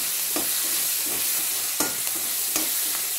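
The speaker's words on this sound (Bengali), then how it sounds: "ক্যাপসিকামটা একটু ভালো করেই ভাজবো" Capsicum frying in a pan for a vegetarian cauliflower curry, a steady sizzle broken by three or four scraping stirs of a spatula, close and moderately loud, with no talk.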